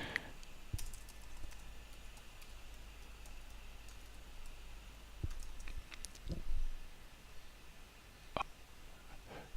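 Someone types a login password on a computer keyboard: scattered, fairly quiet key clicks over a low background hum, with no talking.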